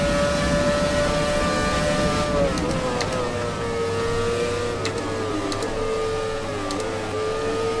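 Formula 1 race car engine from the F1 2017 racing game on the Shanghai circuit, a sustained high-pitched whine that holds steady and then drops in pitch, running loud and continuous with no talk over it.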